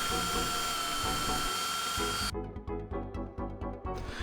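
A small drill bores a 1.6 mm fire hole into a glued, paper-plugged pen body for a rocket launcher. The whine first runs steadily, then turns into short, repeated bursts as the bit bites in close up.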